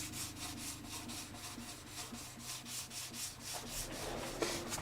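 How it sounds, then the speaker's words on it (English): Sandpaper is rubbed on the cracked fretboard of a Harmony H162 guitar during a repair, a quiet rhythmic back-and-forth scraping of about a dozen even strokes with no talking. "and try the sandpaper on her now."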